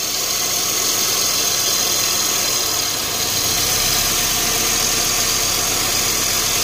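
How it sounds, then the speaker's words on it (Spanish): Car engine idling steadily up close, the tone shifting partway through into a rougher, rattling idle as a fuel injector is unplugged. "Al desconectar se debe de sentir un cascabeleo en el motor, si está bien tu inyector"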